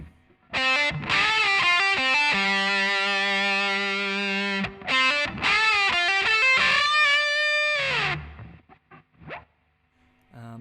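Heavily distorted electric guitar plays the higher pre-solo B section, loud sustained riffs with a hammer-on figure and a brief gap midway, ending in a bend and fading noise.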